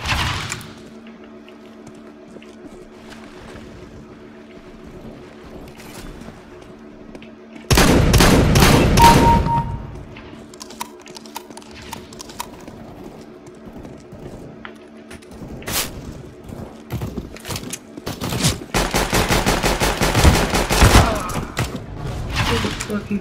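Gunfire from the video game Counter-Strike: Global Offensive bursts out in loud rapid volleys, one short heavy burst early and a longer run of shots later, separated by quieter stretches of in-game background sound.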